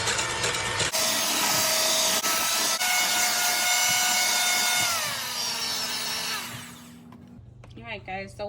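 Heavy whipping cream whipped in a bowl with an electric mixer, a loud continuous whirring buzz that holds steady for several seconds, then winds down and stops, followed by a short voice.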